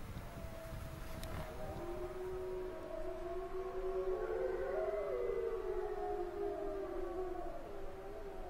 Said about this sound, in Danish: Da hørte vi nettopp en ulv hyle her.